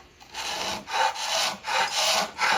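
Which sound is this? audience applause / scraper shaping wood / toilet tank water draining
scraper shaping wood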